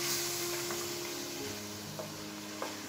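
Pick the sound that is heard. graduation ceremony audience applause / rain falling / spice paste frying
spice paste frying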